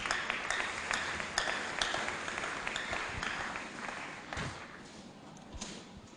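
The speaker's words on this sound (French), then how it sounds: "Merci beaucoup pour les faibles acclamations que vous avez acclamées pour moi" Faint, scattered applause from a small church congregation, with sparse claps and light taps at close range that gradually fade. No one speaks.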